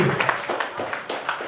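Applause for a game host at a first birthday party, a short burst of steady, dense crowd clapping close by.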